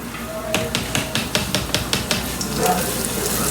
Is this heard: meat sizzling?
yes